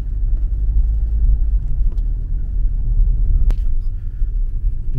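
A car rolls along the road toward a cemetery, its cabin filled with a steady, close, low engine and road rumble that holds constant throughout.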